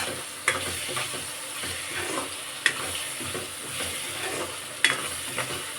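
Cut drumstick (moringa) pieces frying in a pan of pond-fish curry base, a steady close sizzle with occasional stirring clinks and scrapes throughout, no voices.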